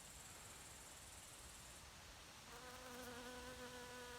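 Bees buzzing around flowering heather and a hive in a tree over faint outdoor hiss, a thin whine at first, then a fuller, steady humming drone that grows closer partway through.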